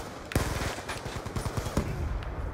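Rapid gunfire in Call of Duty Black Ops 2 multiplayer, on the Express map in a Domination match, crackles in quick automatic bursts with a sharp loud shot near the start, close and busy throughout.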